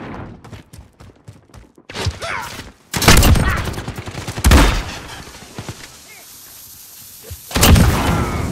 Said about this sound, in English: Still firing.